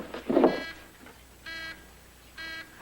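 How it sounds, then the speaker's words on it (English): A telephone ringing in two short bursts of electronic trilling about a second apart, moderately loud in a quiet room, following a brief thump at the start. "Your phone's ringing."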